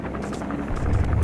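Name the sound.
helicopter in video game Metal Gear Solid V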